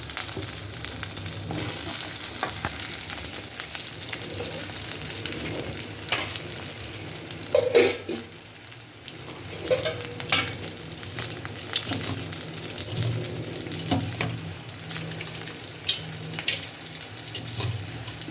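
Curry leaves frying in hot oil for a bitter gourd gravy, a steady close sizzle running throughout with a brief louder crackle burst midway and faint clinks, no talking.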